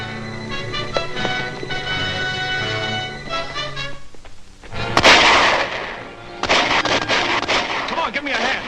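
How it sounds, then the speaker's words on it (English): Gunfire erupts in a 1941 adventure film serial, with rapid bursts and loud blasts from machine guns defending a stockade, dense and close, mixed with shouting voices and dramatic orchestral score. "Man the machine guns"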